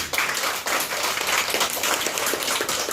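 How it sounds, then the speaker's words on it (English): A room full of people at a school debate clapping together: dense, steady, fairly loud applause with no voices over it, holding for the whole stretch. "let's give a round of applause for each one of us."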